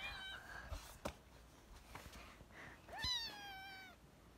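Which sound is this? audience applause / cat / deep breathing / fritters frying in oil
cat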